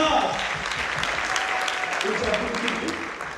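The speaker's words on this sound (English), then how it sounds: "Clap it for Jesus!" A church congregation claps together in sustained applause, steady and fairly distant, fading slightly toward the end with faint voices mixed in.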